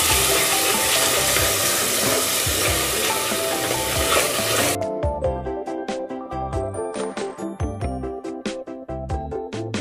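Chopped vegetables for a tuna dish hiss and sizzle steadily in a hot pan, and then a run of rhythmic stirring and scraping knocks sounds out over a softer sizzle.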